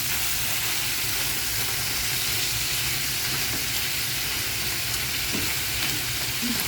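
Frozen string beans go into a pan of pork ribs cooking as adobo, producing a loud, unbroken sizzle that holds steady and close throughout without speech.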